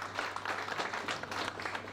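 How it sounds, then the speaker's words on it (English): An audience at an inauguration ceremony claps together in a dense, even burst of applause that fills the room steadily throughout. "A big round of applause."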